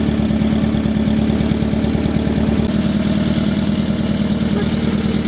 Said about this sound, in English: The engine's as spluttery as all hell